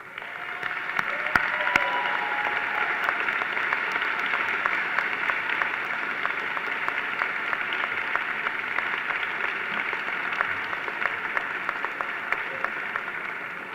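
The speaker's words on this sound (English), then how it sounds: "you give them a round of applause that they so richly deserve for supporting you" Graduates at a medical college commencement ceremony applaud their family and friends, a broad, muffled wash of crowd clapping heard at a distance that holds steady without pause.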